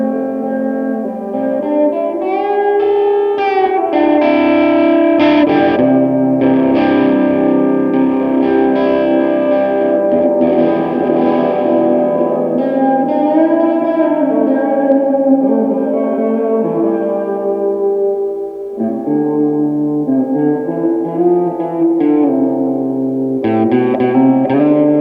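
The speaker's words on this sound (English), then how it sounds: "Now I'm going to play some guitar through the Spring Reverb." Electric guitar played through a spring reverb, with sustained melodic lines and chords carrying a shimmering, echoing tail, loud and continuous with no talking.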